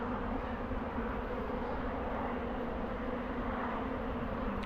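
A dense, continuous buzz of many bees from a swarm being transferred into a hive, close by, steady and droning without pause.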